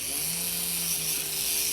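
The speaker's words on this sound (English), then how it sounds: "I'm gonna go back in and then drill this finger." An electric nail drill works on a fingernail during a glow-in-the-dark neon nail job, giving a steady high-pitched whine with a faint low hum, continuous and fairly quiet throughout.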